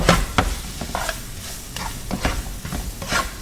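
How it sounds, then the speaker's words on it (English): Seasoning is stirred into beef in a pan with a series of distinct scraping strokes at an irregular rhythm over a soft background sizzle, close and clear with no talking. "So just stir in that seasoning."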